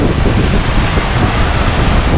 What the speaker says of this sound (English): Listen to those beautiful waves